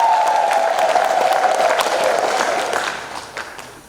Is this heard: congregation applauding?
yes